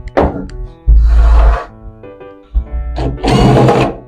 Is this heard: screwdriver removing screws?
yes